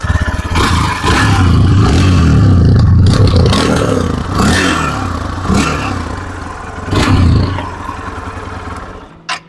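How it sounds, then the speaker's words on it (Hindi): A Hero Xtreme 160R 4V motorcycle's exhaust revs up close, with a few throttle blips rising and falling over a steady engine note before cutting off. "हीरो का एग्जॉस्ट साउंड कैसे सुनने में आता है।"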